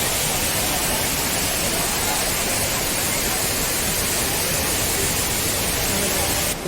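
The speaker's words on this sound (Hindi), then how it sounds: "जल धाराएं गुफा के अंदर बूंदों के रूप में टपकती हैं" Water streams pour and drip inside the cave at Sahastradhara, Dehradun, forming a dense, loud, unbroken rushing wash that runs the whole way through.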